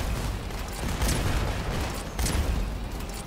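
Rapid weapon fire in the vehicle combat game Crossout, a steady dense rattle of shots with heavier thumps, loud and continuous with no talking.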